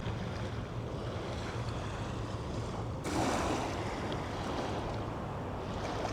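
Wind-buffeted outdoor ambience on a sandy beach by the Brisbane River, a steady broadband wash of lapping water and microphone wind noise that swells briefly partway through.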